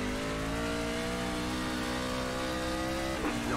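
A NASCAR truck engine drones steadily on the Bristol dirt track in iRacing, holding a loud, sustained rev with a layered harmonic whine that dips briefly near the end.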